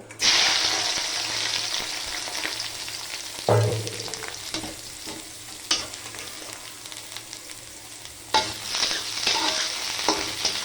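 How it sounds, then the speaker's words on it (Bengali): Vegetables for fried rice dropped into hot oil and sizzling loudly in a pan, a continuous close hiss with several sharp bursts as the pieces are stirred and tossed. "এখন এই গরম তেলের মধ্যে সবজিগুলিকে সব ছেড়ে দেব।"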